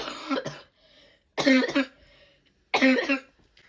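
A child coughs in three separate harsh bursts, close by, with short pauses of quiet between them.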